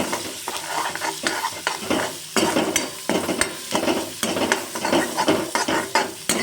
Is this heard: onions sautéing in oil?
yes